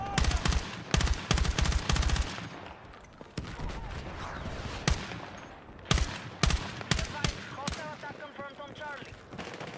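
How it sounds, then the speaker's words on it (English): Video game firefight with bursts of machine-gun and rifle fire cracking in clusters, loud sharp volleys separated by brief pauses, with faint voices beneath. "Little firefight going up over there"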